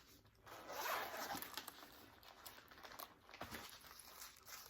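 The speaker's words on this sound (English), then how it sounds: "a nice zipper compartment there." A zipper on a bag's compartment is run open in a few short, faint rasping pulls, close by, mixed with light handling rustles.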